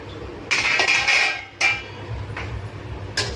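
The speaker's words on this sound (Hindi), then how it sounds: "तो ये देखिए अब हम ढक्कन हटाते हैं।" A metal lid is lifted off a cooking pan of simmering matar paneer gravy, giving a bright clink and scrape followed by a couple of lighter metallic taps, close and alone.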